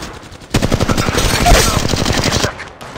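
Rapid automatic gunfire from the Apex Legends Mobile game, a loud sustained burst of closely spaced shots lasting about two seconds after a quieter opening, then cutting off.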